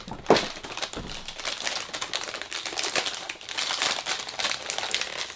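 Fancy gold pastry packaging crinkles and crackles as it is handled up close, a busy stream of crisp rustles and crunches with a sharper crackle near the start.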